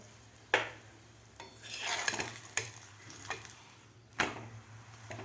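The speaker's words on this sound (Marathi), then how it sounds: "दोन्ही बाजूकडून आपल्याला व्यवस्थित अशी दशमी भाजून घ्यायचे आहे" Mango dashmi flatbread roasting in ghee on a hot pan, with a soft steady sizzle broken by several sharp clinks and scrapes of the turner against the pan.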